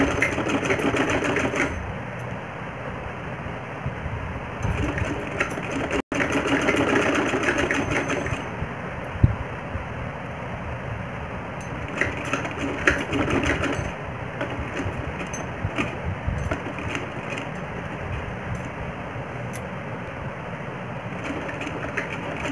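A sewing machine stitches a frill onto a round-neck blouse, running in a loud, continuous close-up whir with brief pauses and changes in speed.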